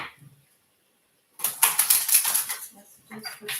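After a second of near silence, a deck of tarot cards is shuffled close up, giving a bright, crackling riffle that runs for about a second and then trails into lighter taps and slides.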